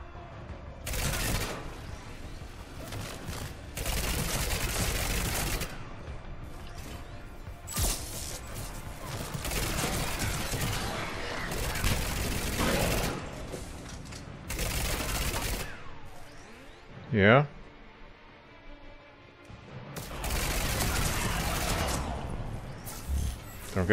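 Gunfire in Mass Effect 3, several sustained bursts of rapid shooting separated by quieter gaps, with a sharp whooshing effect near the end of the firefight.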